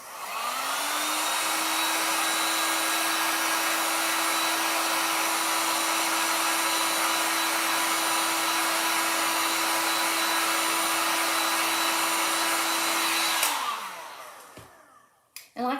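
A hair dryer blows steadily at close range over a furniture piece freshly coated with Paint Couture top coat, a loud constant whine running for about thirteen seconds before switching off.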